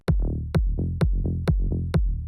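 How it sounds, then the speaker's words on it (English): A punchy tech house kick drum thumps five times at a steady dance tempo, each hit followed by a fat, buzzy bassline filling the gaps. "And that's the bass and the kick."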